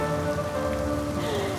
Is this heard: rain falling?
yes